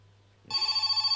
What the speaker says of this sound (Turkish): Aa yine telefon çalıyor.